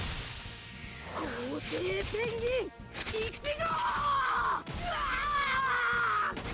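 A goalkeeper's scream in the Inazuma Eleven GO Strikers video game: long, wavering, strained vocal cries that rise and fall across several seconds, loud and close, breaking off briefly midway before returning with a sinister edge.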